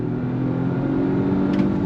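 A 2024 Volvo V60 Polestar with an 8-speed gearbox accelerating hard on twisty roads, a steady droning engine note heard from inside the car, loud and continuous with no talk.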